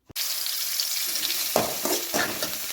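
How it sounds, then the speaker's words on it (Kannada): Onion, carrot and beans hitting a hot pan for egg rice, an abrupt loud sizzle that continues steadily, with stirring scrapes adding bursts of crackle. "ಈರುಳ್ಳಿ ಆದಮೇಲೆ ಸರಿ ಕ್ಯಾರೆಟು ಮತ್ತು ಹುಳಿಕಾಯಿ ಎರಡೂ ಹಾಕ್ಕೊಂಬಿಟ್ಟು ಫಸ್ಟು ಫ್ರೈ ಮಾಡ್ಕೋಬೇಕು"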